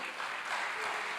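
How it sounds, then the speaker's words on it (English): A conference audience applauds sponsors at an investment event, steady dense clapping filling the room without pause, fairly far and even in level throughout. "can you help me celebrate them with a loud round of applause?"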